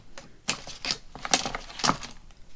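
Scissors snip through a strip of paper or fabric trimmed just longer than a handmade envelope journal, left to be frayed: four or five crisp, close cuts at an uneven pace, fairly quiet.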